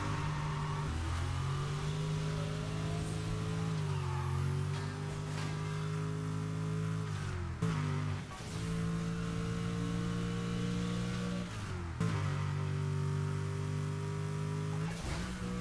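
An engine in Burnout Paradise, a racing video game, revs steadily and loudly for the whole stretch, its pitch rising and falling with shifts and short dips, with no talking over it.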